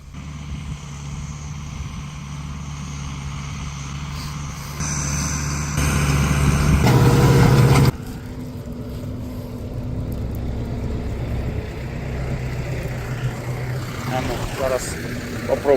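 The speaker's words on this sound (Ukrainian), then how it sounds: "Зі сторони дивишся, наче йде трактор, працює." A tractor pulling a GN-1500 chisel plough across a field, its engine a steady broadband drone that swells louder for a few seconds mid-way, then settles back to a lower rumble.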